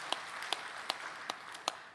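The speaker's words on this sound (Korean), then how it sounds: "성령님께 선제 감사의 박수를 드립시다." A church congregation claps in a slow, steady rhythm during Sunday worship, five or six distinct claps spaced evenly over a soft, reverberant hall hum, fairly faint and with no talk.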